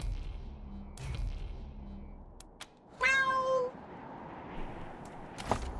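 A cat in the Wasteland 3 video game gives a single short meow over a low ambient hum, with faint clicks and soft background tones around it.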